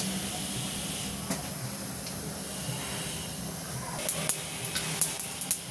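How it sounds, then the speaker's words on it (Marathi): A spoonful of mustard seeds sizzling in hot oil in a pan, a continuous hiss with sharp pops and crackles growing more frequent toward the end. "तर एक चमचा राई टाकून घेते."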